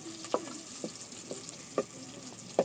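Onions sizzle softly in hot oil in an African village kitchen, with a steady faint frying hiss broken by several sharp clicks and scrapes of a stirring utensil.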